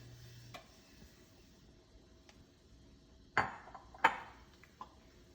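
Sooji being stirred in hot oil in a pan: a few faint metallic clinks and scrapes of a spoon against the pan, spaced irregularly over a quiet background, with no talking.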